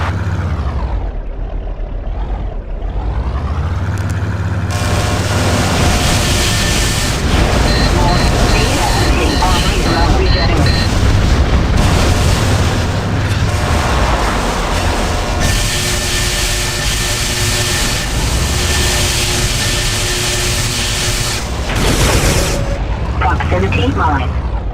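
Tether guided missile blasts and heavy booms rumble continuously with a dense, loud roar in the 1999 Recoil video game, swelling after a brief quieter opening, with game voice announcements over the top.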